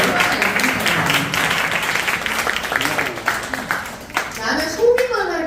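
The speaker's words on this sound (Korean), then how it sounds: "진짜 박수 좀 쳐줘" Applause and clapping from a Korean church audience at a talk on communication and media, scattered hands mixed with lively voices and cheering throughout.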